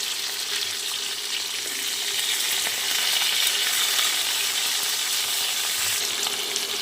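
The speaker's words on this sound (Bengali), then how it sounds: "লঙ্কা দু থেকে তিন মিনিটের জন্য সবজিগুলো ভেজে নিতে হবে" Vegetables with chilli frying in a pan for a curry, giving a steady, loud, continuous sizzle that runs unbroken throughout with no talking.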